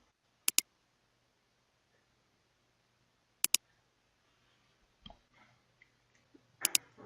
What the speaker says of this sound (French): J'appuie sur la touche Tab de mon clavier 2 fois